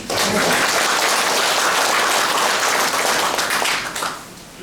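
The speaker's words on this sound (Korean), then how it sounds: "네, 큰 박수." Dense sustained applause from a large audience at a farm leaders' ceremony, loud and continuous for several seconds before tapering off at the end.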